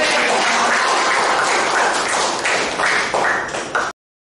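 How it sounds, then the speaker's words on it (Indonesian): A classroom group applauds together, a dense burst of clapping from a room of teachers and students that holds steady, then cuts off abruptly. "berikan tepuk tangan untuk kelompok"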